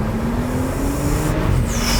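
A 2019 Porsche 911 Turbo S Cabriolet engine pulling hard under acceleration, a steady loud roar with a rising tone, heard from inside the car with no talking.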